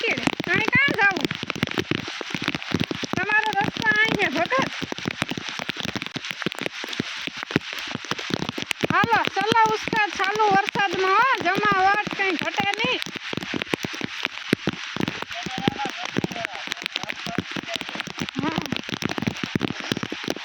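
Steady heavy rain patters and drums on the surfaces nearby for the whole stretch, a dense continuous hiss, while voices talk over it in a few places.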